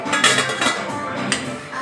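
A metal lid set back onto a cooking pot of chillies simmering with crushed peanuts on low gas, giving a couple of close clinks and a clatter over a steady kitchen hiss.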